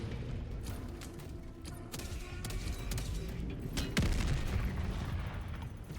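Weapons fire in the video game Helldivers 2 rolls on as a dense, steady barrage of booming shots and blasts, loud and continuous, with a heavier thump near the middle.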